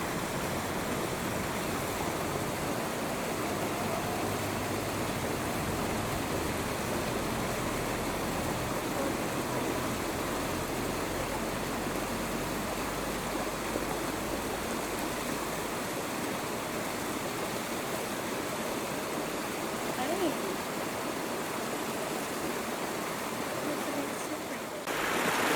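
Red Dirt Waterfall on Kauai, a steady broadband rush of falling water in a gorge that holds constant and fairly loud throughout, with faint wind or low rumble underneath and no talking.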